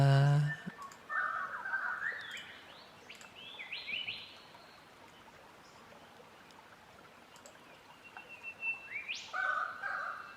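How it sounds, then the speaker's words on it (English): Birds chirp in a sequence of short tweets and whistles, loud at the start and again near the end, over a quiet hiss, with occasional clicks. "Yes, I can turn down the birds."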